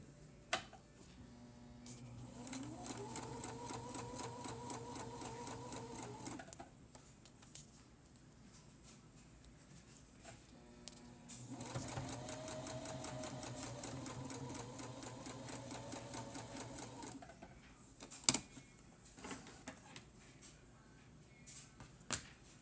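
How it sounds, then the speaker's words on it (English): A sewing machine stitches quilt seams with a 1/4 inch seam guide in two long, steady runs of rapid needle chatter, with a quiet pause between them and faint handling sounds after. "And then you just sew your seams together."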